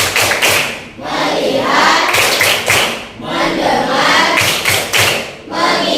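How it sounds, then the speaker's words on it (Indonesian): A classroom of primary pupils performs the rhythmic 'tepuk fokus' focus-clap routine, with repeated bursts of group clapping mixed with chanted voices and a teacher speaking throughout. "mari kita melakukan tepuk fokus dulu"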